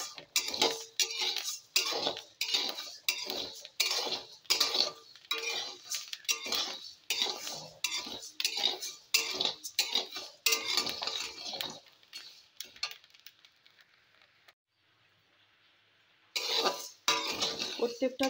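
Rice being stirred while dry-roasting in a pan, with repeated close scraping and clinking strokes of a utensil against metal in an even rhythm, briefly pausing near the end before resuming.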